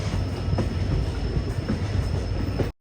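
A WDP-4D diesel locomotive hauls a passenger train from Mysuru to Chamarajanagar, giving a loud, steady rumble with rhythmic wheel clatter heard from on board, cutting off abruptly near the end.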